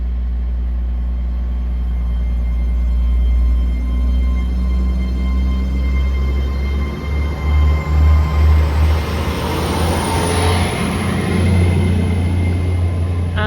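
A Great Western Railway class 802 train departs, its deep engine rumble building and a rising rush of passing carriages swelling close by, then easing, with no talking.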